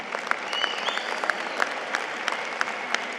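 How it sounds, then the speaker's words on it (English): A graduation crowd at a 2017 commencement ceremony applauds, a dense, steady patter of many hands clapping at a distance with faint voices mixed in. "Give yourselves a round of applause"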